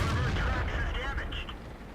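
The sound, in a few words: tank cannon shots bouncing off armour in World of Tanks video game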